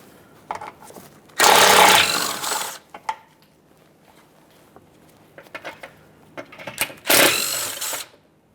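A ratchet working loose 10mm mounting bolts on the rear lower engine splash shield of a 2007-2013 Acura MDX, in two loud bursts of rapid clicking separated by quieter taps and handling noises.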